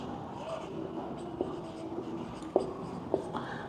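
Algebra being written by hand, light continuous scratching strokes with a few sharper taps as marks are finished, quiet and close, without talk.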